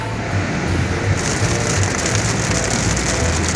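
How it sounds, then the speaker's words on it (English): Heavy rain falls steadily in Las Vegas, pattering loudly and continuously on a hard surface close by with no breaks. "It's raining in Vegas."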